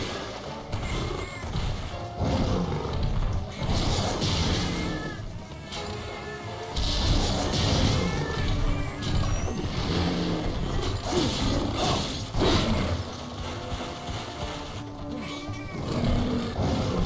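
Cats meowing in the Monster Hunter video game, repeated loud cries over a busy, dense game soundscape with crashes and background action throughout.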